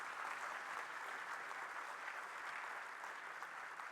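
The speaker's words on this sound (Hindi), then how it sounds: "एक जोरदार ताली हो जाए।" Steady, sustained applause from a large audience at a university convocation ceremony, filling the hall evenly without a break for several seconds.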